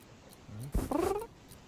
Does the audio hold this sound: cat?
yes